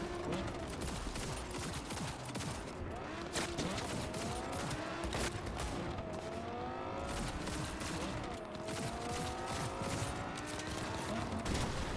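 A Maelstrom gang shoots during a police chase in Cyberpunk 2077: sustained, rapid gunfire that crackles steadily throughout, loud and close, with engine-like whines and street chaos layered underneath.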